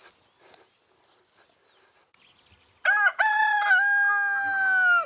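A rooster of the Berry black hen breed crows once, loud and close, a long drawn-out cock-a-doodle-doo that bursts in after a few seconds of faint rustling and scattered barnyard noises.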